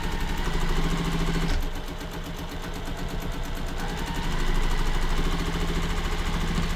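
A sewing machine runs in quick mechanical bursts while stitching quilt block pieces together, pausing briefly and then picking up speed again, with its rapid rhythmic clatter heard up close and no talk.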